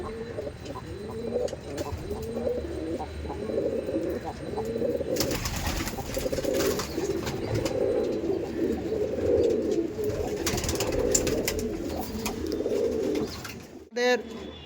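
Several Madrasi pigeons cooing in soft, rolling low calls, overlapping and continuous nearby, with a burst of rustling midway and a brief clatter at the end.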